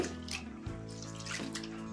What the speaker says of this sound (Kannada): ದೊಡ್ಡ ಧೂಳಿರುತ್ತೆ, ಚೆನ್ನಾಗಿ ತೊಳ್ಕೊಂಡ್ಬಿಡೋಣ 2-3 ಸಲ.